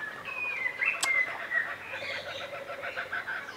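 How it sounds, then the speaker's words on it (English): Parrots call outside a studio's front decking, sharp whistled squawks and chirps repeating at moderate distance over faint background ambience, with no talk. "Yes, parrots."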